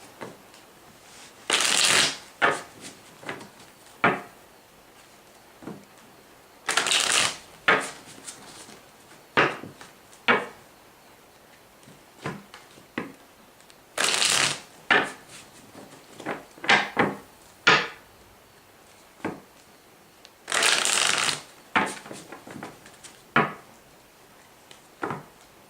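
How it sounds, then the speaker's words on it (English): Deck of tarot cards being shuffled by hand, with repeated bursts of riffling and soft card slaps and taps in between, close and fairly loud, no talking. "Let me get a couple good shuffles and then we'll start."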